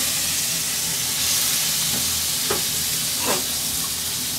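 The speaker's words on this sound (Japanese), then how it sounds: "一応、卵を炒めておいとく。" Eggs sizzle and fry in a hot pan for a Chinese tomato-and-egg stir-fry, a dense steady hiss with a few brief scraping stirs near the end, no voices.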